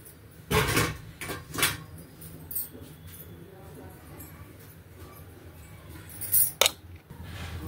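A metal lid clatters onto a pan of simmering Andhra-style egg curry, with a few sharp clinks and knocks near the start and again near the end, and a quieter stretch of faint kitchen sounds between them.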